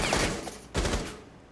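Gunfire in the tactical shooter Rainbow Six Siege during a hostage round, two quick bursts of close shots separated by a brief gap, with no talking over them.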